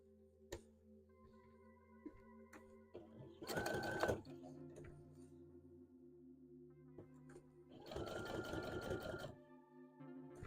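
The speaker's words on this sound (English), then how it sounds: "I'm sewing this black on brown." Sewing machine stitching black fabric onto brown, running in two loud bursts of about a second or so each, with quieter handling noises and a steady background hum between them.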